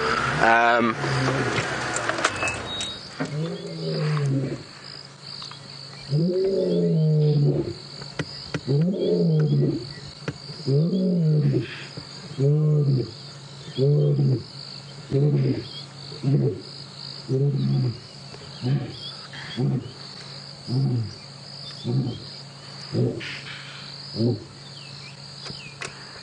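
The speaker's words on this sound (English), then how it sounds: "I really, really, really love when lions roar." Lions roaring at sunrise on an African safari game drive, a long series of deep rhythmic grunting roars that repeat steadily and fade toward the end, close and loud, with a person speaking briefly at the start.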